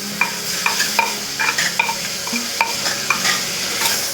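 Three tomatoes sauté in a mud pot for fish curry, a spoon scraping and knocking in a quick irregular rhythm over a steady background sizzle.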